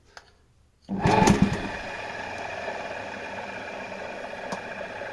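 An induction motor switches on about a second in and keeps running with a steady, even hum and faint whine, alone and close.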